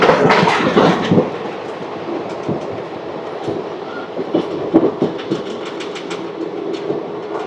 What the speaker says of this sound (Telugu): ట్రైన్ ఆక్వేడ్ రైల్వే స్టేషన్ నుంచి కూడా కదిలిపోయింది